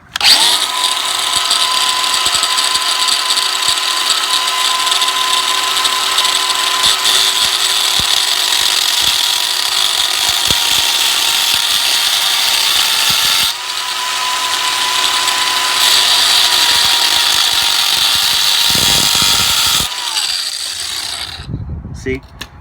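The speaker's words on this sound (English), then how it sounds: "I'll take the grinder and create a little lip around the outside" A grinder runs loud and close with a steady high whine, shaping a lip around the outside of a metal turbo flange pipe on an SVO Merkur 2.3 turbo, dipping briefly midway before winding down near the end.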